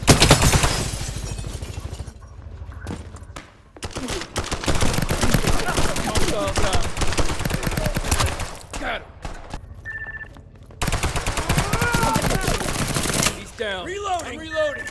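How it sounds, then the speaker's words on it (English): Rapid bursts of fully automatic fire from a zero-recoil paintball gun in the shooter game Rogue Point, loud and close, with pauses between strings of shots and someone talking over the action. "let me explain to you how this paintball gun works. Fully automatic, zero recoil, good accuracy"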